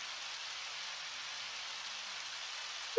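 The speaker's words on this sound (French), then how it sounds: "Oh, il pleut." Steady rain falls in the game Undertale, an even, unbroken hiss of drops that holds at constant strength for about three seconds with no speech over it.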